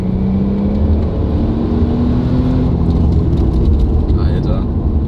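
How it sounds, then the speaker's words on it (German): An Audi RS4 pulls hard in third gear from 3000 rpm, a loud, steady engine drone filling the cabin for several seconds with a faint tonal note rising beneath the broad rumble. "wenn wir jetzt hier zum Beispiel mal einen dritten Gang nehmen und geben jetzt bei 3000 Gas"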